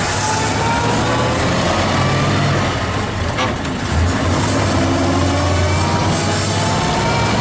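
A 1927 Elcar with straight-cut transmission gears drives along, its steady engine drone and road noise holding loud and continuous, with a faint thin whine threading through the mix.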